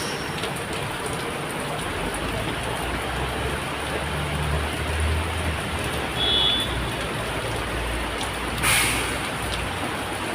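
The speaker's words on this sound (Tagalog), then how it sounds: "Maulan, nagpasilong kami dito." Steady rain pours in Macao, a dense, even hiss close by that fills the whole stretch with no voices over it.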